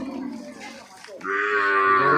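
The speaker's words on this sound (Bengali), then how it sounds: "তো গরু পাল" A large herd of cattle, brought from Chapai Shibganj to graze by the Tanore river, moos loudly and close by, one long drawn-out low call rising after a stretch of rumbling herd noise.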